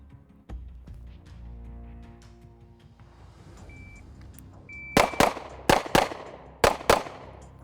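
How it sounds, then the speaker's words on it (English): Pistol shots from a Glock and a 2011 ring out at 7 yards in sharp close pairs, two per target, three loud double shots after a quieter lead-in. "Draw fire 2 on each target."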